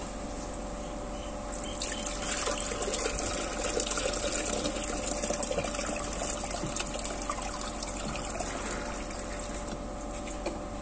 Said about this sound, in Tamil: இப்போ வந்து நம்ம வாட்டர் ஊத்திடலாம்